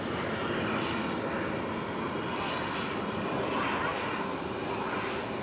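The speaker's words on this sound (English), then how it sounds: "that BizJet, I'm not going to chase that. It was well airborne." A business jet climbing away after takeoff at Zurich Airport gives a broad, steady roar of moderate loudness from some distance, holding even throughout with no talk over it.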